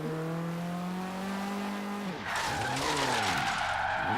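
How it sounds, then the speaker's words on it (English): A car drifts with its tires skidding in Forza Horizon 3, the engine holding a steady drone before a loud, sustained tire screech takes over under revving, close and continuous. "Careless driving results in this car actually being able to drift quite well with assist on"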